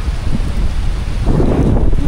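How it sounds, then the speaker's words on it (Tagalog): Rain falling with strong wind outdoors, a loud, continuous rumbling buffet of gusts striking the microphone, with a hiss of rain beneath. "Nagbasa tayo sa ulan."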